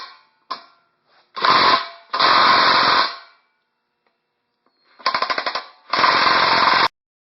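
An impact wrench with a 7/8 socket hammers at a fitting on an air compressor tank in loud, close rattling bursts, two short blips followed by four longer hammering runs with pauses between.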